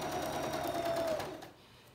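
Sewing machine stitching dense rows of lace on water-soluble stabilizer, a steady close whirring drone that runs evenly for over a second before trailing off.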